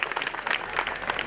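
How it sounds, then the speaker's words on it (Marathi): An audience clapping for dance performers at a Cross Feast celebration, a brisk, dense patter of many hands filling the whole moment. "कलाकारांचे टाळ्या वाजवून सहर्ष अभिनंदन करायचं आहे"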